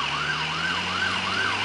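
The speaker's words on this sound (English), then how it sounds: "No, it's an ambulance." Ambulance siren wailing in a steady rising-and-falling cycle on a Montreal street, loud and close, with traffic rumble underneath and no talking.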